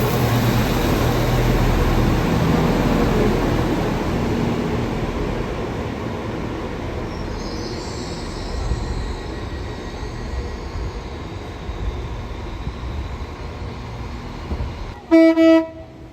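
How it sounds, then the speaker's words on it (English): A Transport for Wales class 197 diesel train arrives, bound for Manchester Piccadilly, its loud rumbling engine and wheel noise fading gradually before a short two-note horn sounds near the end. "here is one of the sister classes for Transport for Wales, a 197 arriving, going to Manchester Piccadilly"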